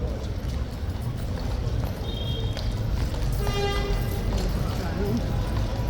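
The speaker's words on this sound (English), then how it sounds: "Now the horse is in the middle of the yard." A runaway horse loose in the middle of a yard, with police troopers and a crowd nearby, clip-clops steadily on hard ground amid a dense wash of background noise and distant voices.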